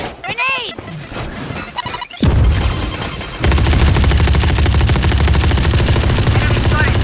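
Sharp game explosions and rapid gunfire from Valorant, starting with a whooshing grenade blast and then a loud, dense barrage of automatic shots that fills the rest of the moment, with a voice calling out over the action.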